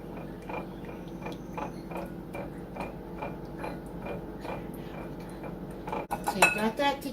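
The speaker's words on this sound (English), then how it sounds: "Now you're just going to whisk that together." A whisk beating pork chop marinade in a bowl, a steady quick rhythm of metal tapping and scraping that runs throughout, with louder clatter near the end.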